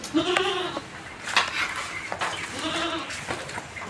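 Goats on a farm bleat in a few wavering, nasal calls, close by, with a short pause between them over a faint outdoor background.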